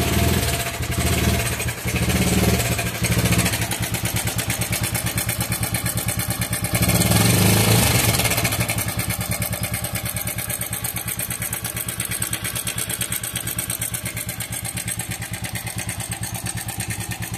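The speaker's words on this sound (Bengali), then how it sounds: "এই বাইকটির সমস্যা হলো বাইকটির ইঞ্জিন থেকে প্রচুর ঝিরঝিরি শব্দ আসে" A TVS Apache RTR 4V motorcycle engine runs steadily with a loud, continuous mechanical rattle and clatter throughout, plus a brief swell of revving in the middle.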